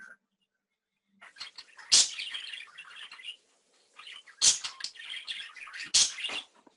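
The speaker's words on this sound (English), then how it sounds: "who's got a bird?" A pet parakeet chirps in bright, busy bursts of tweets and squawks, with several louder sharp calls standing out against a quiet room.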